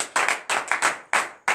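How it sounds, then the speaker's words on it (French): A church congregation at a morning prayer service in Benin claps in acclamation, with bursts of sharp, close hand claps coming in an uneven rhythm of short groups with brief gaps between them. "Donnez de vive acclamation."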